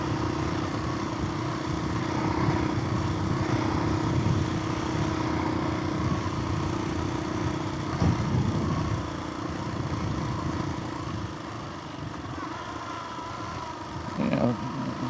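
Dirt bike engine, a DRZ400E on a hot trail ride, idles steadily to cool down, a constant low droning hum close by with a brief louder blip near the end.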